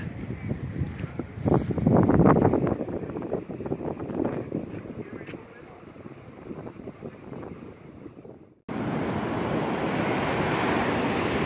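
Waves and surf wash in at the inlet of Sebastian Inlet State Park on the Florida coast, a broad steady roar mixed with gusty wind buffeting the microphone, swelling louder near the start and again toward the end.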